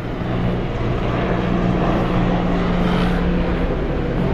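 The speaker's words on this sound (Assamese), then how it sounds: "বহুত দেৰি পৰা এই হেলিকপ্টাৰখনে ৰাউণ্ড মাৰি আছে আমাৰ ওপৰত" A helicopter circles low overhead, its engine and rotor giving a loud, continuous drone with a steady hum that stays constant from start to finish.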